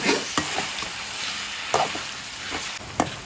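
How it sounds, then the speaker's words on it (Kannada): Chopped tomatoes frying in a pan for a mutton curry masala: a dense, steady sizzle close by, with occasional scraping strokes as they are stirred. "ಈ ಟೊಮ್ಯಾಟೊ ಸ್ವಲ್ಪ ಹಸಿ ಸ್ಮೆಲ್ ಏನಿರುತ್ತೋ ಅದು ಹೋಗೋವರೆಗೂ ನಾವಿಲ್ಲಿ ಫ್ರೈ ಮಾಡ್ಕೊಳ್ಬೇಕು"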